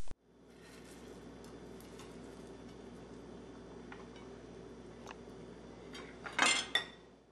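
Plating meatloaf slices over mashed potatoes with gravy and shaved onions: soft scattered clinks of utensils against dishes over a steady low background hum, with a brighter cluster of clattering near the end.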